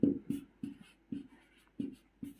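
A pen writes an answer by hand on paper, six short scratchy strokes in an uneven rhythm, close and quiet with no talking.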